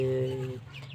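A chicken in a coop gives one short, close cluck, brief and clear.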